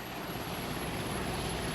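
Steady aircraft rotor and engine drone, most likely a helicopter, a dense broadband roar holding constant and fairly loud throughout with no voices over it.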